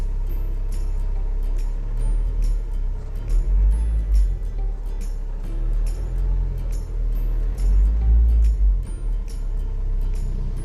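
A Tata H5 truck's diesel engine, heard from inside the cabin, idles with a low rumble and swells twice in short, moderate revs before dropping back.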